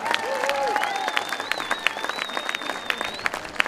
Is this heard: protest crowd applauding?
yes